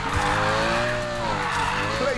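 A car drifting in the Need for Speed Payback racing game, with a sustained tire squeal over engine drone. The squeal holds steady for about two seconds, loud and close, while someone talks over it.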